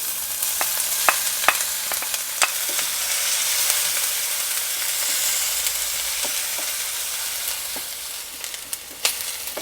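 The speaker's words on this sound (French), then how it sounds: "On a fait chauffer de l'huile d'olive dans une poêle et on va ajouter l'oignon et l'ail." Onion and garlic frying in hot olive oil in a pan give a steady, close sizzle, broken by scattered sharp crackles and light stirring clicks.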